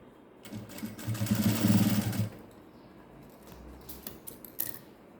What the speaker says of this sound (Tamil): இந்த மாதிரி ஃபோல்ட் பண்ணி ஸ்டார்ட் பண்ணுங்கள் தைக்கிறதுக்கு